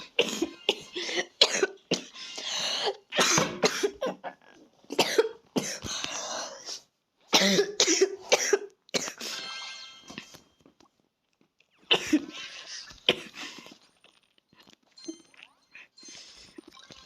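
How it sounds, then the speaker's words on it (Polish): Bouts of harsh coughing, many bursts in quick clusters, loud and close, with short pauses between fits. "sorry za mój kaszel"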